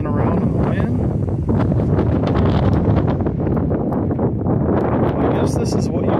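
Wind gusts outdoors across a freshly mowed lawn, a steady loud rumbling buffet of wind noise on the microphone with rustling that never lets up.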